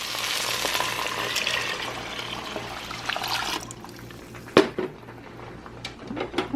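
Water poured into a hot pan of beans and vegetables sets off a loud sizzling rush that fades into a quieter simmer, with a few sharp clinks of utensils against the pan near the end.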